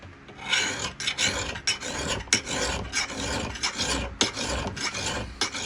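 Hand file sharpening a Michigan axe head, close rasping strokes in a quick uneven rhythm, each pass a gritty scrape followed by short pauses, with no talking.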